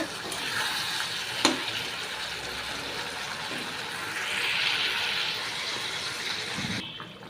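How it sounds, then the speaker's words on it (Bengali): Potatoes already fried with spices sizzle steadily in a pan as water is poured in, the broad hiss swelling briefly midway before fading, with a sharp clink near the start. "মশলাটার সাথে আলুটা ভালো করে কষিয়ে নিয়েছি এবার জল দিয়ে দেবো"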